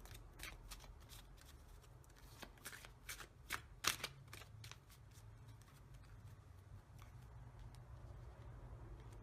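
A deck of oracle cards being shuffled by hand, a quick run of crisp riffling flutters and snaps that thins into soft, faint handling, heard up close and alone.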